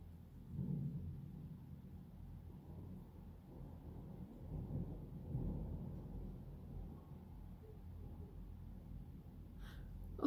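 Low, faint thunder rumbling through a thunderstorm, a soft distant roll that swells twice and fades, with a brief sharp noise at the very end.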